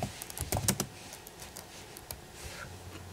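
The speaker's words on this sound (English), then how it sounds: "So type in Shotcut." Someone types on a computer keyboard in a quick, close cluster of clicks at the start, then a few sparse taps over a quiet room.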